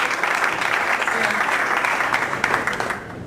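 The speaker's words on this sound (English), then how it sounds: "So if you please give Janice a warm round of applause" Audience applause for a speaker at an event, a dense, loud wash of clapping that holds steady throughout and thins out at the very end.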